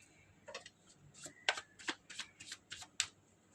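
Tarot cards are shuffled close by in quick riffling bursts, a dozen or so crisp flicks and slaps in an uneven rhythm, quiet and clear with no talking over them.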